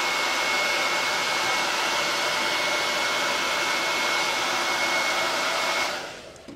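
A hair dryer blows a steady, loud, close whoosh with a faint whine while heating WoodUBend glued onto a reclaimed cupboard door, then winds down as it is switched off.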